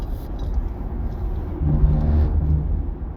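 Low car engine rumble heard from inside a moving vehicle, a steady drone that swells a little louder partway through with a faint hum, no one speaking.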